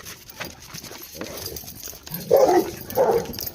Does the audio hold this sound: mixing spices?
no